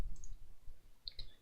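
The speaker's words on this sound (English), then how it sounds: "we're going to click on Add Volumes up here at the top" Computer mouse clicks on an on-screen button: a couple of small, sharp, quiet clicks close to the microphone, heard alone against a faint background hiss.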